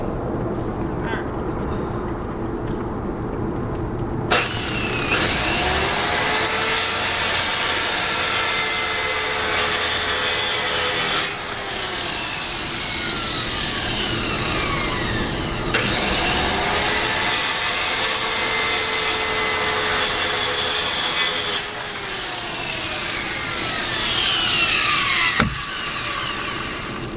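A power saw whines loudly through wood for a chicken feeder in long continuous passes, pausing briefly between cuts, with steady motor hum underneath.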